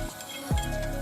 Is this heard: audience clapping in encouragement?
no